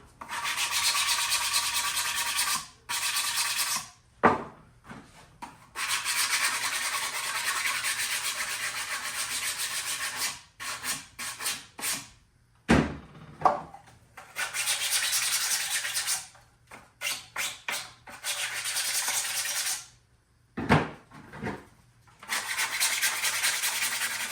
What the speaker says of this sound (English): so I'm going to want to sand these edges too